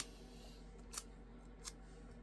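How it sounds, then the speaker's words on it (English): A small piece of adhesive tape is torn off a roll while assembling a Stampin' Up card; two brief, quiet rips in a near, hushed setting with no talking. "I'm just going to bring in a little piece of tape"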